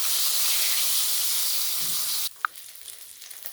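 Fish heads coated in salt and turmeric frying in hot oil give a loud, steady, close sizzle that cuts off abruptly, leaving quiet room tone with a single sharp tap.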